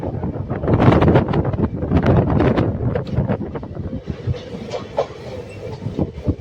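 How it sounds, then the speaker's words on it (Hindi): A daily passenger train running at night from Coimbatore to Nagercoil rumbles loudly from inside a carriage, with rhythmic wheel clatter, wind buffeting the microphone and a steady low roar. "ये मैं जिस ट्रेन में इस वक्त यात्रा कर रहा हूँ वो एक डेली ट्रेन है।"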